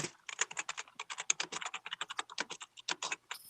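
Fast typing on a computer keyboard, a dense run of crisp clicking keystrokes in quick irregular bursts, close and alone.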